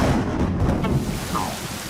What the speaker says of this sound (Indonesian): Setidaknya hujan turun.